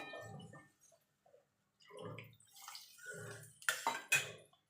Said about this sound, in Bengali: এবার সামান্য একটুখানি জল দিয়ে দেবো, খুব বেশি জল দেবো না